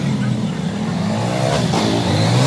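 Motorbikes starting and revving at close range, a loud steady engine drone with rising revs toward the end and a voice faintly underneath.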